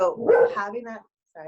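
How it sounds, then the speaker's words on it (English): A dog gives a short bark or yelp under a person talking, briefly overlapping the speech before a moment of quiet. "that was my dog"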